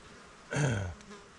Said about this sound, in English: Bloody mosquitoes.